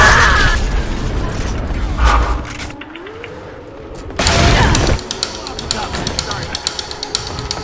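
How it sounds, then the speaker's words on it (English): A frag grenade in a shooting video game bursts loudly once near the middle, a short broadband blast after clanking mechanical sounds, with voices and game noise around it. "Throwing frag!"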